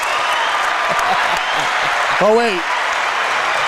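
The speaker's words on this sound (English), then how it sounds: "the crowd's cheering him on." Crowd at a high school basketball game, Mohawk vs Colonel Crawford, cheering and clapping steadily in a large gym, moderately loud beneath a commentator's brief remark.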